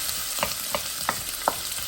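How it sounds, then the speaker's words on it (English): Chopped onion and garlic frying in a pot for a creamy butternut squash soup, a steady bright sizzle with four soft stirring scrapes at even intervals, close and moderately loud with no talking. "So here I'm just going to put the onion and garlic."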